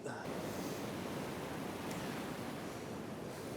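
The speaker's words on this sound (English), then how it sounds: "see that frothy bit over there where the big waves are crashing into?" Large waves crash and wash on a Scottish beach, a broad, faint rushing surf mixed with wind buffeting the microphone, continuous, with no clear voices.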